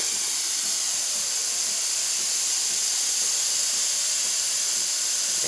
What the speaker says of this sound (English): as you can hear and see, there's nice steam coming out through the one, excellent pressure